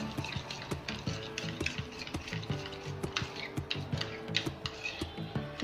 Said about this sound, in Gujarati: એમાં એક ચમચી ખાંડ નાખીશ ને એને બરાબર આ મિક્સ કરી દેવાનું